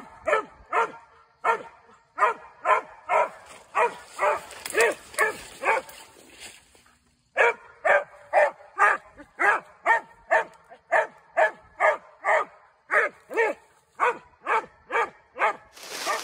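A hunting dog bays steadily at an animal it has treed, loud, close barks in a quick even rhythm for the whole stretch, broken by one brief pause.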